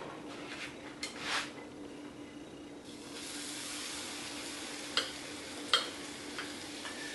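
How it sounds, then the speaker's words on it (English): Cornbread batter sizzles in a hot skillet, a steady quiet hiss that rises after a few seconds, with a few small clicks and taps of utensils over it. "let y'all see this cornbread sizzle in the skillet"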